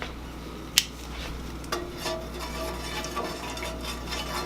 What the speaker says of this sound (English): Mix that, mix the oil